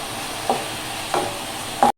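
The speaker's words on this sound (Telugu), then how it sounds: "ఒక 3 నిమిషాలు ఏంటి ఉల్లిపాయలు బ్రౌన్ కలర్ వచ్చేంత వరకు వేసుకోవాలండి." Onions and green chillies fry in a pan for a home-style fish curry, a soft steady sizzle broken by three scraping stirs, close up with no talking.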